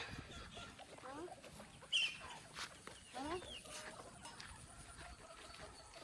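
Chickens cluck faintly on a farm in a few short, scattered calls beneath quiet background noise and occasional talking.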